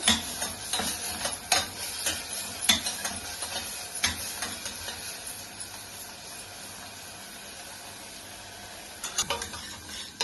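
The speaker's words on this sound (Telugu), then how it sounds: "ఉల్లిపాయలు బాగా వేగాలి, ఇందులో ఫ్రై అవ్వాలండి." Onions frying in a pan for a Telugu fry and curry, a steady close sizzle with sharp spoon scrapes and clinks early on and again near the end.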